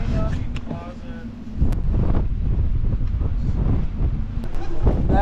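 Strong gusty wind buffets the microphone along the LA Aqueduct trail, a loud rumbling roar that surges and eases in bursts, with voices talking briefly over it near the start.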